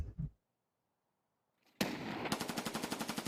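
Automatic gunfire in Escape from Tarkov: a couple of early shots, a silent pause, then a sharp loud burst of rapid, evenly spaced rounds.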